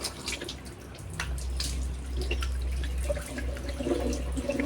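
Tap water runs steadily into a sink while someone washes their face, a continuous close splashing flow with small drips and splashes throughout, and no talk.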